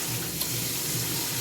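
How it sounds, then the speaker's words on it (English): Running water fills a bowl as potatoes are rinsed and scrubbed clean for homemade mashed potatoes, a steady broadband wash and splash with low rumble, close and continuous, no voices. "Get these nice and rinsed off."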